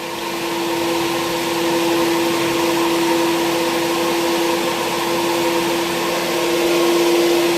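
Air blower at a car wash in Thailand drying water off a car's windows: a steady, loud whooshing roar with a constant whine, running without break and with no voices heard.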